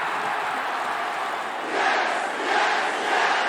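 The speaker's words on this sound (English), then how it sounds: "And this crowd really feeling it right now." A dense, steady crowd roar fills a WWE 2K video game wrestling arena, swelling in a few rolling surges of cheering.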